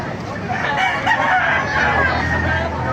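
Roosters crow over a busy, noisy background of chickens and faint chatter at a chicken market in Baliuag, loud and close.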